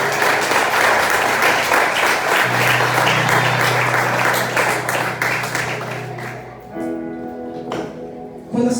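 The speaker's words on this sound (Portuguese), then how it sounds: "Dá só de palmas para você" A church congregation claps and applauds steadily, the clapping thinning out and dying away near the end.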